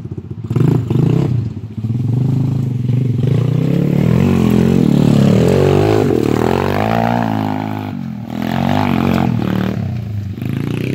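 Modified SSR125 dirt bike screaming up a steep hill at full throttle, its engine pitch rising and falling hard with rattling and scraping, loud and close throughout.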